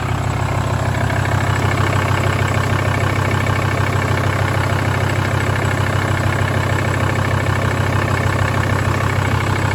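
A 2000 Volkswagen Transporter T4 with the 2.5 TDI ACV diesel engine, 75 kW, idles loudly and close up, a steady low rumbling clatter that never changes over the whole stretch.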